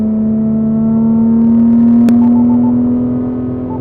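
Nissan Z engine revving steadily higher, a loud continuous drone with a rising tone, heard from inside the car with a brief click midway.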